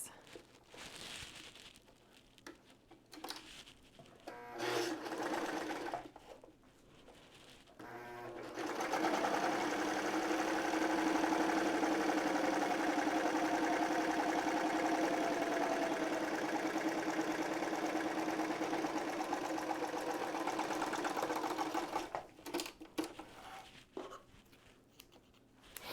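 A home sewing machine stitches fabric for a pair of shorts, running steadily and close for about thirteen seconds after a few short starts and bursts of handling, then stopping.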